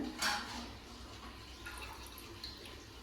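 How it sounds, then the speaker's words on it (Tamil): About 150 grams of cooking oil pours into an earthen clay pot for mango pickle, giving a faint, brief liquid splash and trickle at close range, with no voices. "மண் சட்டியில் ஒரு நூற்றம்பது கிராம் எண்ணெய் ஊற்றிக்கலாங்க"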